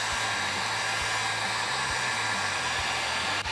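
A heat gun warming vinyl wrap on a Chevy Silverado ZR2 blows a continuous loud whooshing roar with a steady motor hum, close up and without talk.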